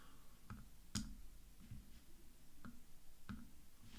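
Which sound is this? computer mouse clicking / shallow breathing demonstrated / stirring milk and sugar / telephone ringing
computer mouse clicking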